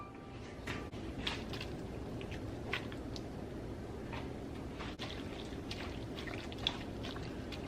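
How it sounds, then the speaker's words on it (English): Two cups of water poured into a pot on a kitchen stove while making sorrel puree, a continuous close splashing stream with scattered drips and small knocks throughout. "Adding in 2 cups of water."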